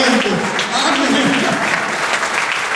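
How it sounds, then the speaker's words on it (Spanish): Congregation applauding in a church service, a dense steady wash of clapping filling the short moment at full loudness from start to finish, with voices mixed in. "Denle un aplauso al oriente."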